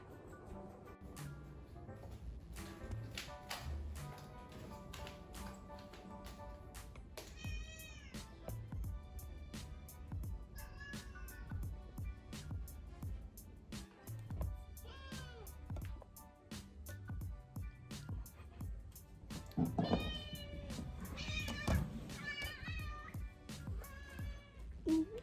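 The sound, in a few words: cat meowing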